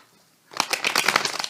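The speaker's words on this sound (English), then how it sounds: "Let's give a shuffle, you guys, real quick." A deck of tarot cards is shuffled up close in a rapid riffling flutter of papery slaps that starts abruptly after a short silence and continues steadily.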